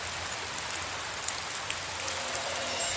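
Steady rain pours onto a rooftop, a dense continuous hiss with scattered sharper drops pattering close by, no voices.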